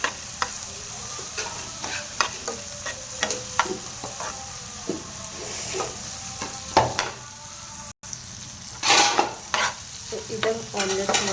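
Onion omelette frying in a pan while a utensil stirs and scrapes it, a soft continuous sizzle broken by repeated clinks and scraping strokes, close and fairly quiet.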